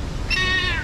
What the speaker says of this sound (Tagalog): Kawawa naman tong ibon na ito. Umiiyak oh.